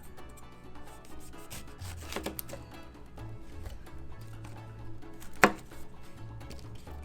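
A dull knife chops garnish for a Lava Flow cocktail on a cutting board, soft scattered taps and rubbing strokes with one sharper knock, close but fairly quiet, with no speech.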